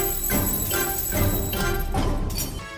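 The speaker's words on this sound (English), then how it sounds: "The music of the track begins with a clock ticking off" An alarm-clock-shaped start line in the Mario Kart 8 Deluxe Tick-Tock Clock track gives bright, bell-like tick pulses about every half second, repeating evenly and clearly with no voices.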